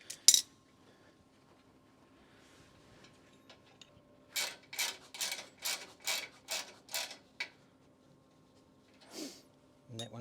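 A cap comes off a compressor oil line during oil sampling: a quick metallic click, then a rapid run of about eight ratcheting, clinking turns in close succession, with one more scrape near the end.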